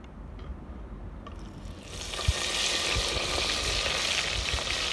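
Eggplant pieces hit hot oil for green undiyu and start a steady, loud sizzling hiss that holds for several seconds after a quieter moment with a few faint knocks.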